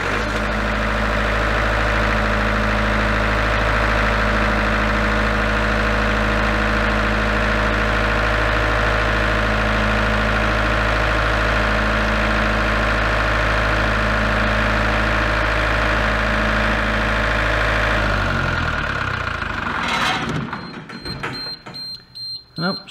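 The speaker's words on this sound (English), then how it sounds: "And I think we'll try firing the generator up now and see if that's made any difference." A large diesel generator with an error fault runs loud and steady, a droning engine hum with a constant tonal whine, then winds down near the end and cuts out, leaving clicks and rattles.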